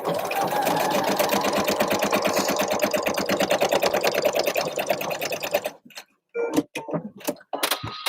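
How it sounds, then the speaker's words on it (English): A sewing machine stitches jacket facing pieces together in a fast, steady mechanical chatter for about six seconds, then stops, leaving a few short clicks and handling noises. "let's get this facing sewn together."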